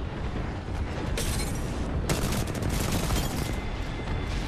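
Rapid bursts of automatic gunfire in the Apex Legends battle royale, with dense crackling volleys and booming shots overlapping continuously throughout, loud and close, no talk.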